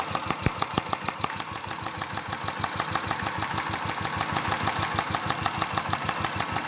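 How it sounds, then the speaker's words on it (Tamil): A Royal Enfield motorcycle's purge valve ticks rapidly and evenly at close range, a steady train of sharp clicks over the low idling engine. "அதுலேருந்து தான் இந்த சவுண்டு வர ஆரம்பிச்சிச்சுண்ணா, டிக்கி டிக்கின்னு"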